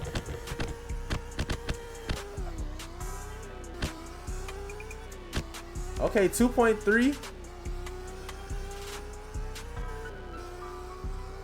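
A Pontiac G8 launching with launch control in sport mode, engine revving up through the gears with a distinct rise-and-drop at each shift, a burst of tire or drivetrain noise midway, while a person speaks briefly over it.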